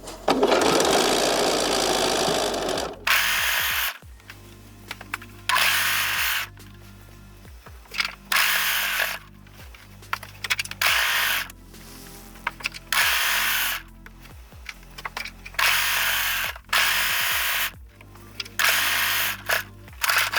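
A cover stitch sewing machine runs in repeated short bursts while hemming a stretch bodysuit with elastic, a fast mechanical whirring that starts and stops many times, close and loud with quiet pauses between runs.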